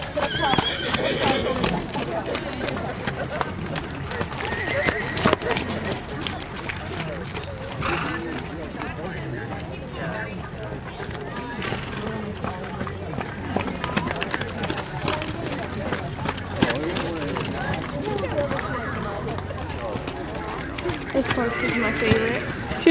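Horses at a horse show: whinnies and running hoofbeats with clip-clop steps throughout, mixed with people talking nearby.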